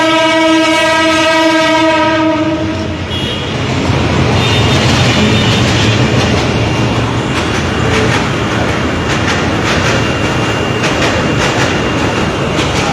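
Trains rumble through Tejgaon railway station in Dhaka, a loud long horn blast opening before giving way to dense, continuous wheel and carriage noise that fills the rest, close and alone.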